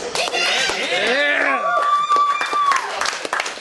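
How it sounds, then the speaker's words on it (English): Crowd at a stand-up comedy show claps for a comic while voices whoop and shout over the clapping, loud and close, with a little laughter mixed in. "Another round of applause for Dan"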